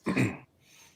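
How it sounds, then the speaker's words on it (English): A single short throat clear, close and fairly loud, burst out in the first half second and then gave way to quiet room noise. "I heard a throat clear. That wasn't a cough, was it?"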